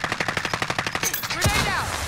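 Rapid automatic gunfire in a video game, a close, evenly spaced burst of about a dozen shots, followed by a louder blast and a whooshing sweep.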